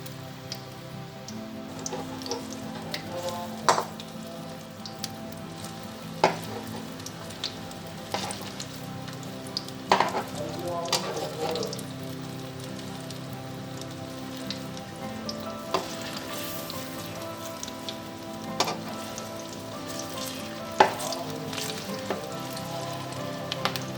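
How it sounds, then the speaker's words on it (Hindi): Chicken-stuffed chillies fry in a pan with a steady, even sizzle and scattered sharp pops and crackles, close up and moderately loud throughout with no talking. "और इसी तरह हमने सबको फ्राई कर लेना है"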